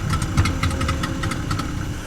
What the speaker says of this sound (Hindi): नाव का इंजन खड़खड़ाया